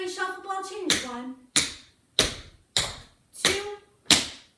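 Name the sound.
tap dance shuffle ball change steps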